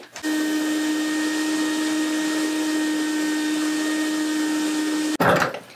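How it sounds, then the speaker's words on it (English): A vacuum cleaner runs steadily on a basement floor, a loud constant whine with a strong hum that starts abruptly and cuts off near the end with a brief bump of noise. "he got it all vacuumed up"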